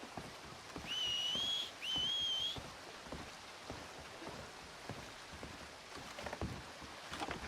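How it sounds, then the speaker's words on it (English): A short two-part human whistle in the Red Dead Redemption 2 video game, a rising tone repeated twice early on, set over steady rain-like outdoor ambience with faint background sounds and no talk. "Did someone whistle out here?"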